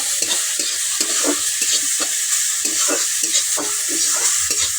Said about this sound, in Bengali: এখন চিংড়িগুলো আমার ভাজা হয়ে গেছে